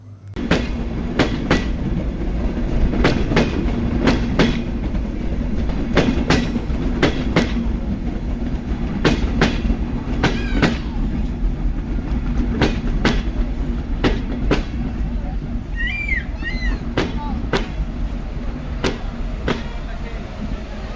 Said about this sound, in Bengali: অলরেডি আমাদের ট্রেন কিন্তু চলে এসেছে খুলনা থেকে ছেড়ে দর্শনায় প্রবেশ করলো